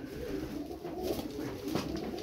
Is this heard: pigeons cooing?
yes